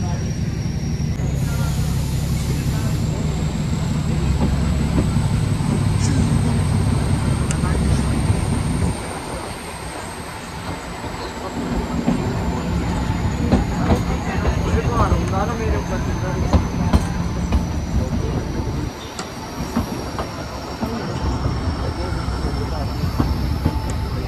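A Kangra Valley Railway train on the Jogindernagar to Baijnath line rumbles along with a steady, loud rolling drone and a high whine, dipping briefly twice, heard from on board with faint voices.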